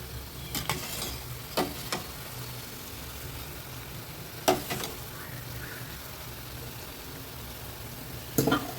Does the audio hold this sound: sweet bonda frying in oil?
yes